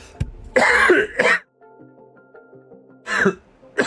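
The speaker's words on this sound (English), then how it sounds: "he coughed and his mute was rubbish" Several close coughs and throat-clearing bursts from a man, a short one, then a longer rough cluster, then another after a pause, with faint soft tones underneath in the quiet gap.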